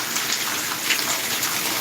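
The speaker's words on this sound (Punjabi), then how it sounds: "ਜਿਹੜਾ ਮੀਂਹ ਪੈ ਰਿਹਾ ਹੈਗਾ" Heavy rain pours down in Punjab in a steady, dense hiss with no break, close and loud throughout.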